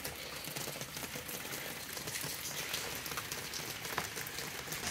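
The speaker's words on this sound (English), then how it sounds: "So now that it's raining, we can see what's happening with the gutter situation." Steady rain pattering on a roof and spilling through gutters, a dense, even hiss of splashing drops with no gaps, fairly faint and without any voices.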